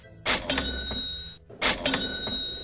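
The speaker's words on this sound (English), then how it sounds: "Each time you hear a cash register" Two cash register chimes in quick succession, each a clunk and bright ringing ding with a rattling drawer, crisp and close with nothing else heard.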